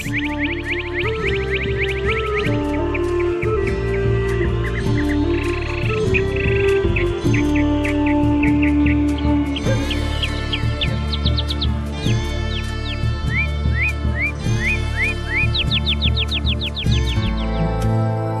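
Cardinals sing in repeated bright, quick chirping phrases throughout, layered over a dense, steady tonal background.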